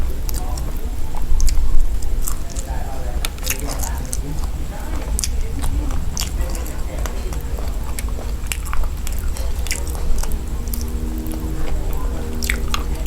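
Close, wet chewing and crunching of stuffed frog eaten with hot rice, with frog bones gnawed on, in a dense run of squishy bites, snaps and smacks that goes on almost without pause.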